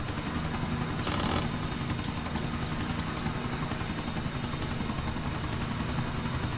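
Helicopter flying in GTA IV, a steady whirring rotor and engine drone that holds without a break and sits loud in a continuous wash of sound.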